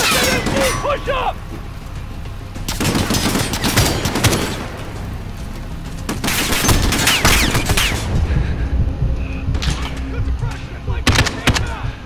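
Machine-gun fire and explosions erupt in the video game Call of Duty Modern Warfare, dense bursts and booms loud and close, with shouted voices mixed in throughout.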